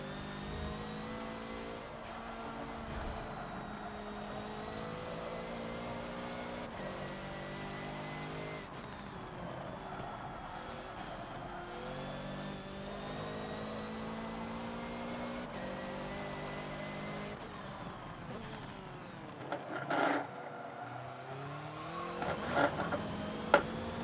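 A Hoonigan Focus race car roars around the Rio National track in Forza, its engine droning steadily and rising and falling through gear changes, with occasional bumps and thuds near the end.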